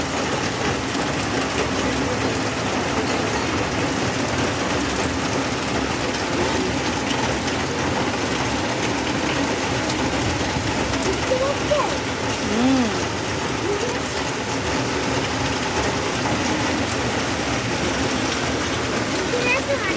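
Heavy rain falls outside as a steady, dense hiss that stays loud and unbroken throughout, with no other sound standing out above it.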